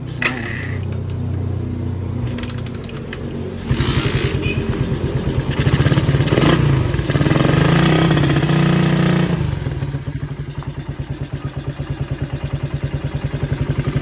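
A Suzuki Raider 150 motorcycle engine being tuned, idling with a loud mechanical clatter, then revving up hard for several seconds before dropping back to a steady, pulsing idle, close and loud with no talk over it.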